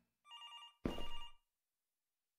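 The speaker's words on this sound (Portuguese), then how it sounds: "Tá, telefone." A telephone rings once in a nearby, quiet room: a short electronic tone followed by a louder, buzzier burst, then silence.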